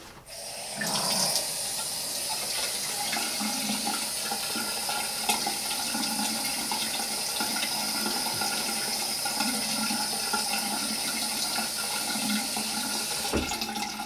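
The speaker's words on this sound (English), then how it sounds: "Let's add more hot water." Hot water runs and splashes steadily into a shaving bowl for the whole stretch, a continuous pouring rush with a faint low rumble beneath and no talking.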